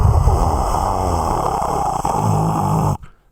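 A loud, steady whooshing drone meant to imitate a laptop fan running at high speed, holding for about three seconds before cutting off abruptly.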